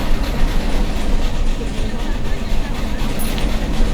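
A train ride in a video game: a steady, loud rumbling and rattling of wheels on track continues without a break for the whole stretch.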